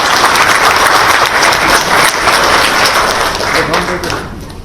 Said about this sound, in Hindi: मुझे लगता है तालियों से हमें स्वागत करना चाहिए।